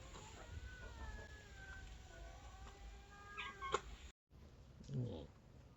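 A cat meows a few times over steady background hum at a campsite, followed by a brief dropout and one more softer meow nearby.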